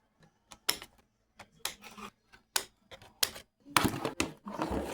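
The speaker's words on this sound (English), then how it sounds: "This will be ASMR of just me doing the clipping." Plastic Transformers Studio Series 86 Optimus Prime figure parts being clipped from sprues with nippers: a series of close, sharp snips and clicks at irregular intervals, quiet in between, ending in a busier cluster of rustling handling noise.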